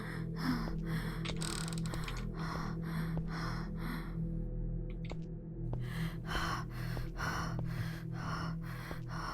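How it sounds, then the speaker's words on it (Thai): Heavy, rhythmic panting from a character in the horror video game Grimwild Horror, repeated breathy gasps over a steady low game ambience with faint clicks, no talk. "หยุดหอบได้แล้วค่ะ"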